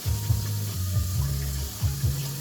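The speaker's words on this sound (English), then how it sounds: "the water coming out of the tap is extra cold" Ice-cold winter tap water runs steadily into a sink, a continuous close hiss and gurgle with a low pipe hum underneath, no voices.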